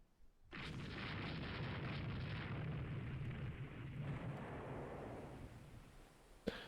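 Naval mine explosions in Rule the Waves 3, a warship strategy game, heard as a sudden heavy boom that rolls on as a sustained roar for several seconds before trailing off, ending with a short sharp pop.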